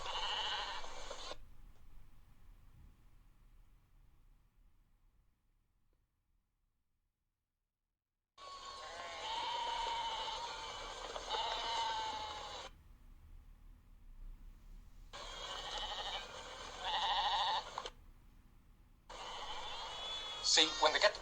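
Sheep bleating on their way into a slaughterhouse, repeated bursts of calls near and fairly loud, separated by stretches of near silence.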